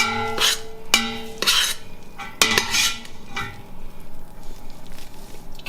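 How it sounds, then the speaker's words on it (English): Spaghetti with smoked salmon and watercress being stirred in a pan, with several sharp metallic clinks of a utensil against the pan followed by softer scraping and faint sizzling, close up. "stir a little bit."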